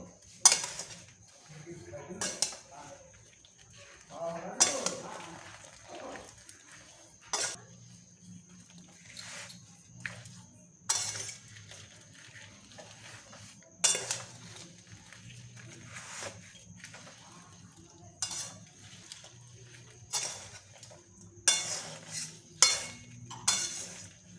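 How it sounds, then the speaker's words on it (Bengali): Jujube pickle with jaggery is stirred in a pot, with repeated close scrapes and clinks of a spoon against metal in irregular bursts over a low background hum. "গুড়টা দিয়ে ফুলটা নেড়ে যেতে হবে এইভাবে"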